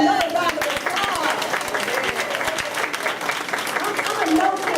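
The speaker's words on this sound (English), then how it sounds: "Let's give her another round of applause." An elementary school audience at a grandparents day event gives a round of applause, dense and steady clapping throughout with a few voices mixed in.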